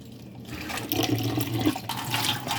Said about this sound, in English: So I'm going to set up some water from tap. I'm going to put it on cold.